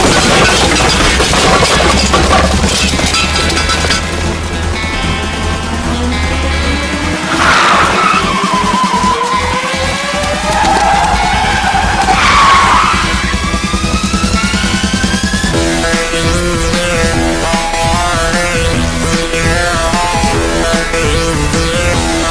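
A car speeds off with tires skidding and squealing, sweeping pitch glides rising and falling loud against a busy action-film score, no talk over it.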